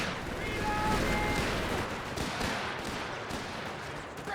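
Gunfire and artillery in a Company of Heroes 3 battle: dense, overlapping bursts and booms rolling continuously at mid distance, with a rough, crackling texture throughout.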